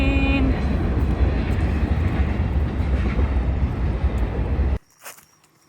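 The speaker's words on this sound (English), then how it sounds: "Train." A train passes nearby on the Florida Trail, a loud continuous rumble and rattle of rail cars that stops suddenly near the end, leaving a brief quieter moment.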